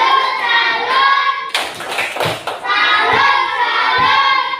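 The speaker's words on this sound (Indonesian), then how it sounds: "Coba kasih dulu tepuk salut sama kelompok Darren." A classroom group claps a short rhythmic 'tepuk salut' cheer, a close burst of hand claps with children's voices chanting around it.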